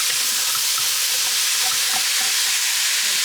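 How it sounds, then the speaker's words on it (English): A spiced pork stew with garlic, nutmeg and brown sugar is stirred in a pot, giving a loud, constant sizzle with soft scraping of the spoon; no voices. "Stir this up."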